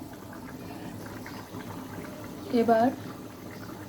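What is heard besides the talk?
chicken gizzard curry broth boiling in covered pot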